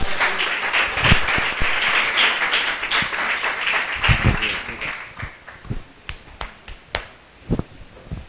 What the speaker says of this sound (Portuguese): Dê um aplauso ao Senhor pela vida dele.